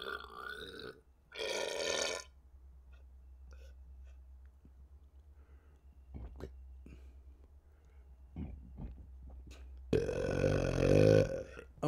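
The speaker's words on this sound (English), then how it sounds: "I have the fucking burp again." A man lets out two loud, drawn-out burps at the start and end, with quiet clicks and faint whispered breaths in between.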